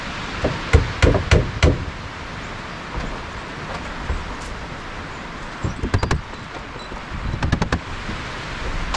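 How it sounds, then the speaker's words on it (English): Nails being hammered into the rafters of a cabin's front wall, heard as two brisk bursts of sharp knocking blows with a quieter stretch between them, close by and with no talking. "I'm just going to go along and nail these every couple of rafters"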